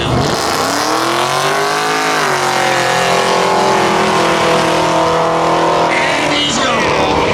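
Street-legal Mercury and Mustang drag cars launch at a spectator drag event, engines roaring loud and close with rising revs that swell, dip and climb again as they pull away, an announcer talking over them.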